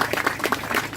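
Scattered audience clapping sounds at an outdoor memorial ceremony for the 67th anniversary of Jo Bong-am's death at Mangu Historical and Cultural Park. The claps fall in loose rhythmic bursts for about a second at moderate loudness.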